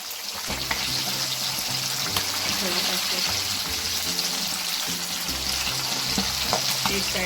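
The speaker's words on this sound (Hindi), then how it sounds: "तो अब हम इसको फ्राई करेंगे" A whole chicken for chargha fries in a pan with a loud, steady sizzle and crackle that stays constant and close throughout.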